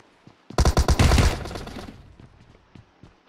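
A single loud burst of rapid automatic fire from a Thompson submachine gun in PUBG Mobile, starting abruptly and fading after about a second, followed by a few faint scattered shots further off.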